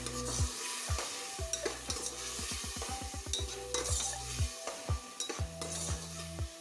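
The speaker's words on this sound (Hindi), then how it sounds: "और अब इसको मैं टमाटर और अदरक लहसुन के पेस्ट में मैं डाल दूंगी मैं और ये मसाले की अच्छी तरह से भुनाई कर देंगे।" Spices being fried and stirred in tomato and ginger-garlic paste in a pan, with a near, steady sizzle, repeated scraping strokes and clinks of a spoon against the cookware, and no talking.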